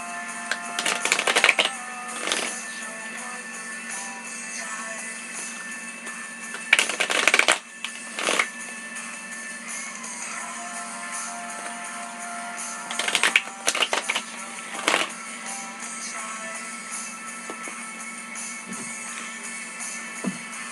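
Several rapid riffling bursts of a card deck being shuffled, separated by quiet pauses and soft handling; close and crisp, no voices.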